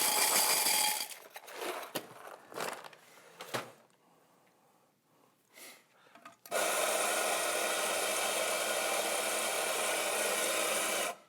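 An ECM coffee grinder grinds and doses coffee, preceded by scattered knocks and handling clatter, then a loud sustained grinding whir that starts suddenly and runs to the end.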